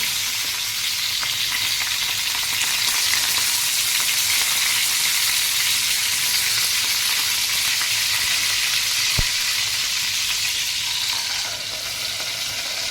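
Continuous loud sizzling of eggplant frying in oil on a deep griddle, even and unbroken throughout, with one brief tap partway through.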